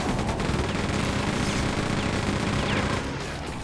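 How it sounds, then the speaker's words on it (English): Chain gun in Quake II (2023 Remaster) firing a continuous belt-fed stream of rapid shots, loud and dense throughout, tapering slightly near the end, with no voices. "might as well just mag dump, or should I say belt dump, with this here chain gun"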